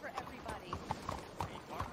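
Horse hooves in the Red Dead Redemption video game, a quick rhythmic clip-clop of a trotting horse at moderate distance, fairly faint under a speaking voice.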